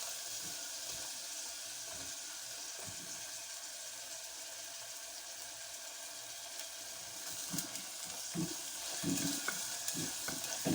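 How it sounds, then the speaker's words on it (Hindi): Onions are lightly browning in a pan with cumin and salt. A soft, steady sizzle is heard at low volume, and a few stirring clatters grow toward the end. "प्याज को हल्का सा ब्राउन करते हैं।"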